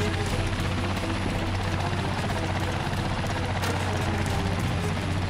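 A helicopter roars at close range with a dense, constant rotor and engine drone, loud and unbroken throughout.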